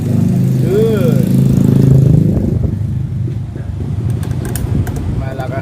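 Motor running strongly after a capacitor replacement, a loud steady hum with rough mechanical rattle, a person talking over it in a non-English language.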